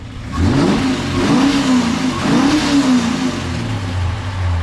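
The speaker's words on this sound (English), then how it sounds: "We'll give it a bit of a rev and hear what it sounds like." A Holden HQ GTS Monaro's engine revs up and down several times, a loud rising and falling roar with a deep idle rumble in between.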